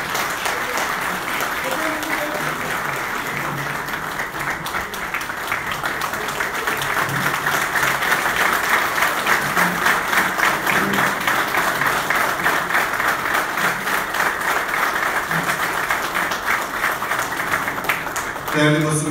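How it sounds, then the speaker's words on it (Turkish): Sustained audience applause at an Istanbul municipal press event, a continuous bed of clapping that swells midway and stays strong, with a voice speaking over it near the start. "Gönül dolusu başarılar diliyor ve sizlere alkışlıyoruz."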